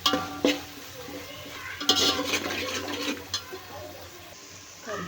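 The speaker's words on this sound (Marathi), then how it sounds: "याला हे छान परतून घ्यायचे." Chicken masala with fresh ground ginger, garlic and coriander is stir-fried in a pan, a moderate sizzle with scraping stirs and a few sharp clanks, close, without talk.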